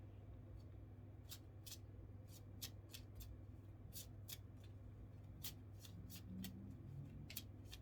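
Tarot cards are shuffled close up, with a string of crisp, rapid riffling bursts in uneven rhythm over a low steady hum, quiet and without talking.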